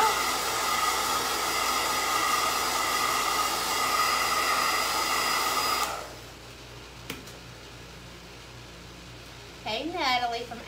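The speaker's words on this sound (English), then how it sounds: "I'm gonna give this a quick little dry" A heat dryer drying paint on an attachment blows a loud, steady whoosh for about six seconds, then shuts off, leaving a quiet room with a brief voice near the end.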